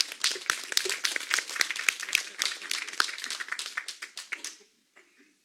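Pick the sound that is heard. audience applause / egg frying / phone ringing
audience applause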